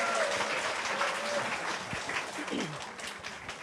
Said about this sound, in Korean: 뜨거운 박수와 환호로 맞이해 주시면 감사하겠습니다